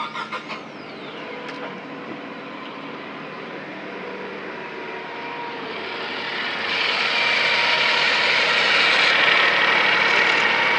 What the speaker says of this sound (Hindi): इंजन ऑन कर देता हूँ और फिर इसका वाइब्रेशन सुनाता हूँ आपको